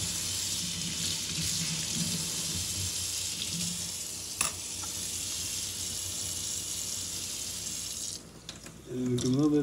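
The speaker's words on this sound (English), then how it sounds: "And a little bit of tap water," Tap water pours steadily into an aquarium during a tank clean, a bright hissing stream that runs for about eight seconds before cutting off, followed by brief handling clatter.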